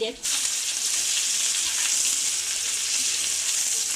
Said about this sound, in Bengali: ভাজাটা হচ্ছে, প্রায় হয়ে এসেছে,